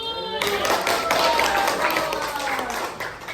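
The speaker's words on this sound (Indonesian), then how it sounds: "Beri aplaus buat Yuni." Classroom applause for a student during a junior high science lesson, a dense burst of clapping from many hands starting abruptly and continuing steadily, mixed with chatter and voices.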